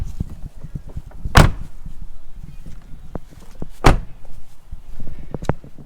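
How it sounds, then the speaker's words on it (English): A Toyota Tacoma door, fitted with sound-deadening material, shuts twice with solid, dull thuds a couple of seconds apart, close by, with light handling noises in between. "And this is what it sounds like when you shut the door."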